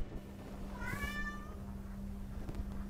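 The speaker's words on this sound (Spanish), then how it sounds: "Casi tan extra como el gato maullando." A cartoon cat in a Skibidi Toilet animation gives a single rising and falling meow over a steady low hum.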